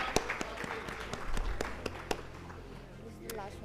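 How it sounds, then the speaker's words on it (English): Ladies and gentlemen at a workplace diversity dialogue give a warm round of applause, scattered claps from a modest audience, moderately quiet, with a voice speaking over it. "Please give him a warm round of applause"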